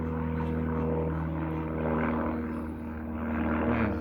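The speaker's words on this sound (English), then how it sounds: "there's been a few planes flying over today" A propeller plane drones overhead, a steady loud engine hum with tonal harmonics that swells and dips slightly as it passes.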